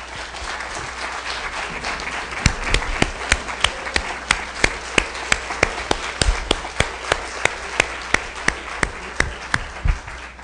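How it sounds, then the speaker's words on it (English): Audience applause fills a student town hall meeting, a steady roar of many hands with sharp, regularly spaced louder claps standing out on top. "get everybody's applause and appreciation"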